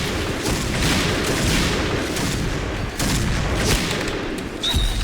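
Continuous gunfire in the shooting game Point Blank, a dense unbroken barrage of shots and blasts at steady loudness, with a brief high tone near the end.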